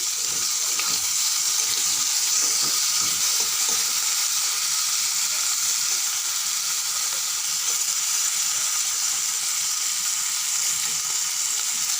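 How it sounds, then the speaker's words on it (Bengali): Prawns fry in a pan for a potato and pointed gourd curry, giving a steady, close hiss of sizzling oil that runs unbroken from start to finish with no voices. "পটল আলুর জন্য চিংড়ি মাছ ভাজা বসিয়ে দিয়েছি"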